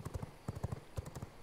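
Horse hooves clip-clop in the video game V Rising, a quick uneven run of soft thuds in clustered beats, fairly quiet and with no talk over them.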